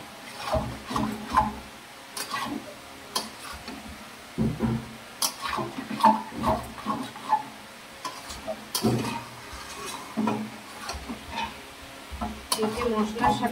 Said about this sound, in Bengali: তারপর মাংসটা ততক্ষণ কষাতে হবে যতক্ষণ না মাংসটার গা থেকে তেল বেরিয়ে যাচ্ছে।